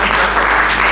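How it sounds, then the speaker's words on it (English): Audience applause at a heart health talk, a short, dense burst of clapping filling the room, steady and fairly loud with no pauses. "Another round of applause"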